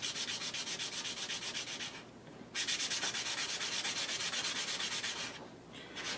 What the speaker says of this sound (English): spinning it a quarter turn, it helps you to sand it down consistently and level all over